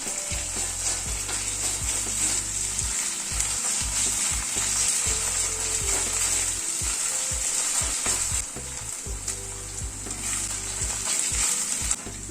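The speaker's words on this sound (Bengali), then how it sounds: "আদাটাকে দিয়ে আবার একটু মিনিট খানিক নাড়াচাড়া করে নিলাম" Ginger paste fries in a pan with onions, garlic and green chilli, giving a continuous bright sizzle with irregular scraping stirs and a low rhythmic thud underneath, no talking.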